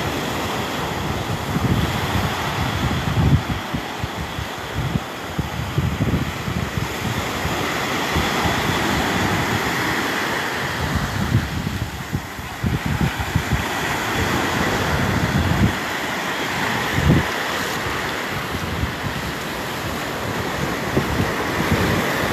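Ocean waves wash onto a foggy beach amid gusting wind, with a continuous surf roar and rumbling wind buffeting the microphone, steady and fairly loud throughout, with no voices.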